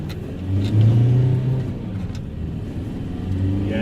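A VW T5 campervan's diesel engine accelerates up to a main road, its low engine note swelling and rising under throttle, heard close from inside the cabin with no talk.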